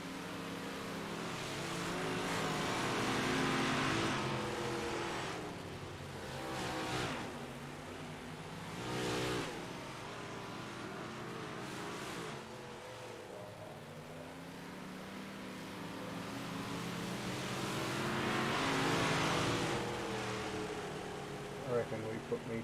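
IROC Big Block Modified race cars racing at Lanier: engines roaring and rising as cars pass, swelling in loud waves and fading again, with a commentator talking over the track noise.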